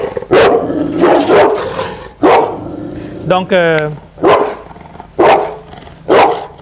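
An aggressive dog barks from inside its cage in a series of loud, sharp barks spaced about a second apart, with a rising yelp or whine in the middle, while someone talks between the barks.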